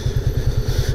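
A motorcycle engine putters close by in a steady low rhythmic thump, idling as the bike comes to a stop on a ride toward Parbat and Dharampani.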